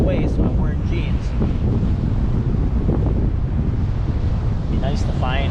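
Strong wind buffeting on Navarre Beach, Florida, at night, a loud constant roar against the microphone with surf mixed in, and brief voices breaking through.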